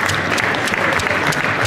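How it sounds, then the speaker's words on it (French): An audience gives steady, dense applause to cycling teams during an opening address by a French professional cycling league president, the clapping loud and continuous throughout with no voices on top. "Donc on va aussi applaudir les équipes cyclistes."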